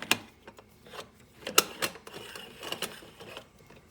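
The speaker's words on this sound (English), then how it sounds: "Fill it to the top, and you just screw the top on." Moka pot top being screwed on, heard as a string of dry metallic clicks and scraping twists, with scattered ticks and a sharper burst in the middle, close and alone.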